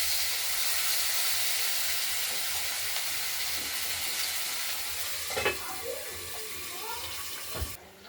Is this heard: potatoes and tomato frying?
yes